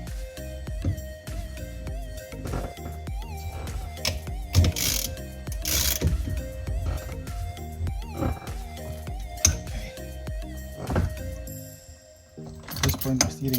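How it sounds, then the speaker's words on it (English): A ratchet tightening a 19mm bolt while fitting a Nardi steering wheel with a Sparco quick release: repeated rapid clicking bursts of the pawl, close and fairly quiet, with short pauses between strokes. "Just tighten this bolt quickly."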